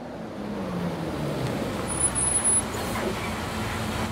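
A bus engine in the visual novel Everlasting Summer runs as the bus pulls up, a low steady motor rumble with a brief hiss near the middle, moderately loud and without voices.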